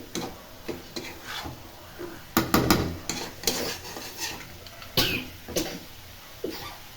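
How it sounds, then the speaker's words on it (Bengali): Meat for biryani being turned and stirred as it fries in a pot, uneven scraping strokes and knocks of a utensil against the pot over a low sizzle, with a couple of coughs. "ভালো করে উল্টিয়ে পাল্টিয়ে কষাচ্ছি"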